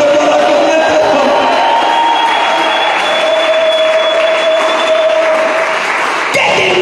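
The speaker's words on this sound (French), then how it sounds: "Acclamez très fort, acclamez très fort" A church congregation cheers and applauds loudly, a dense sustained roar of clapping and shouting voices over a held tone, continuing steadily for several seconds.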